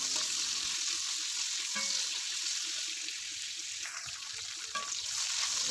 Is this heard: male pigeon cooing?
no